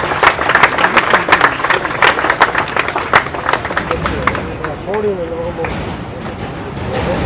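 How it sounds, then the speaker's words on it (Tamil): At an Abdul Kalam memorial gathering, an audience claps to welcome a former High Court judge to speak. The clapping is brisk and close at first, then thins out as voices and babble rise beneath it. "தங்கள் பலத்த கரகோஷத்துடன் பேச அன்போடு அழைக்கிறோம்"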